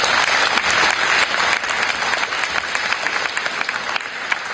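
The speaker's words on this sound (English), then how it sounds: "And let's give David a round of applause." Sustained audience applause after a personal testimony at an Eastbourne community event, a dense steady clatter of many hands that stays loud throughout and eases off slightly toward the end.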